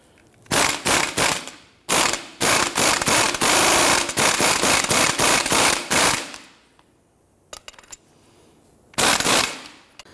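A ratchet tightens the rear strut top nut on a 1992-1996 Toyota Camry, loud and close, with rapid clicking bursts in several runs, a pause with a few stray clicks, then a final short burst.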